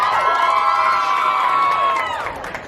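Loud, sustained cheering and shrieking from a crowd of youths at a Samoan youth end-of-year party in Canberra during a best-dress vote, a dense wall of high-pitched voices that tapers off at the end.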